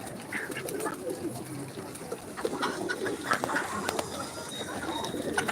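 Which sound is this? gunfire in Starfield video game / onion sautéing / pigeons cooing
pigeons cooing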